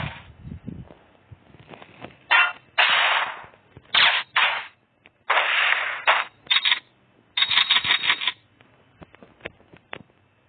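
Gunfire from an FPS Maker video game: several bursts of sharp, loud gunshots and rapid automatic fire separated by short silences, with light clicks and clatter between the bursts.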